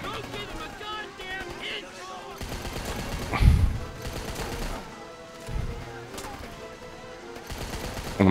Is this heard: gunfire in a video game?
yes